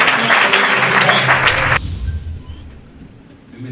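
Congregation at a national prayer breakfast applauding and acclaiming the Lord, a loud dense burst of clapping and cheering that cuts off abruptly partway through, leaving quieter room murmur.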